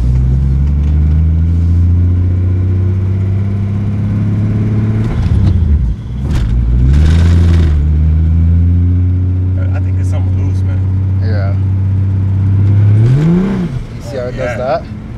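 A car engine hums and drones continuously while driving, its pitch rising and falling with the revs in a steady close-up rumble, while people talk over it.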